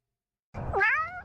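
A single cat's meow, drawn-out and fairly close, rising then falling in pitch after a moment of silence, with no talking over it.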